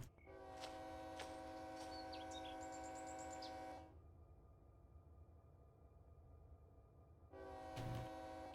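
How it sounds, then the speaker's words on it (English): A Run 8 Train Simulator freight train approaches near Barstow Hump Yard, its horn sounding a sustained multi-tone blast that cuts off, followed by steady low rumble and a second short horn burst near the end. "I already hear a train coming, finally."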